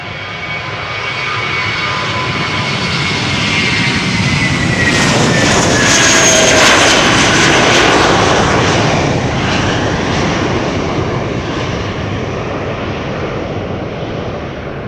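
Airbus A320, about 21 years old, takes off from Schiphol's Polderbaan runway, its jet roar building steadily, peaking loud and close midway, then slowly fading as it climbs away.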